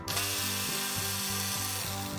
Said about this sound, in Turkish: Bu cıvataları tek tek açmamız gerekiyor.